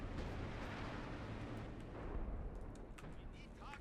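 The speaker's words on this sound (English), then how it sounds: "Artillery firing in the back again." Artillery fires in Company of Heroes 2 during a 4v4 match on the White Ball Express map, a heavy, continuous rumble of booming shots with rattling gunfire under a commentator's voice.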